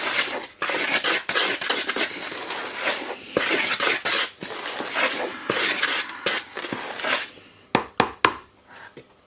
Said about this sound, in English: we'll just give that a stir.